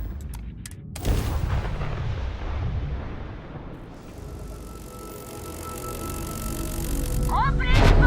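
Gunfire in the space video game Starfield, a heavy blast and booming shots near the start followed by rumbling impacts and a lingering roar, with game dialogue heard over the fighting.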